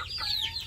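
Small African chickens cluck briefly at close range, a short soft run of clucks over faint background noise.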